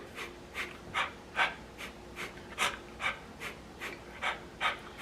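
Rhythmic, quick breaths, sharp puffs of air repeating steadily about every half second, close and fairly quiet, with no talking.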